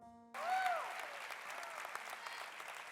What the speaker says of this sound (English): let's give him a big round of applause and make him feel welcome today